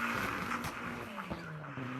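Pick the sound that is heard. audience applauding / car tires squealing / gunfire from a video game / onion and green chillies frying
car tires squealing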